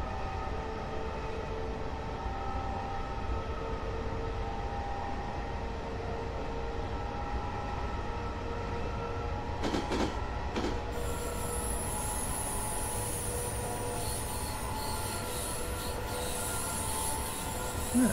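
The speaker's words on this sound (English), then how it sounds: "You like the throbbing of a big diesel" A big diesel train engine on a Tokyo commuter line gives a steady, moderately loud drone with high metallic wheel squeal layered over it, continuous throughout with no voices.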